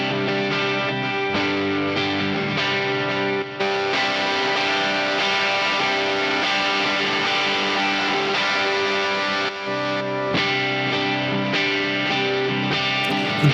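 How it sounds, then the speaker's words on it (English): Electric guitar played through a tube amp modeler with delay and reverb, sustained chords and notes ringing steadily with effects tails, loud and continuous with brief gaps, no talking. "Delay and reverb sit nicely in the mix"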